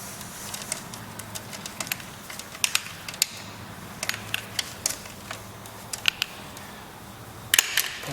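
Bolts on the seat mount of a 2014-or-later Indian Chief motorcycle are snugged down with a hand tool for a Spring Tractor seat kit, giving scattered sharp metallic clicks and taps over a low, steady background.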